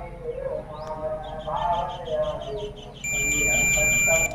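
A multimeter beeps with a steady, high continuous tone while testing a Jio F320B phone's charging circuit. The tone starts partway through and holds to the end, over a person talking.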